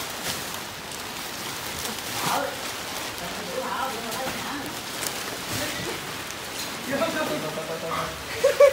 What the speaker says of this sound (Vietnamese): Hôm nay thì thời tiết đã bắt đầu mưa lớn.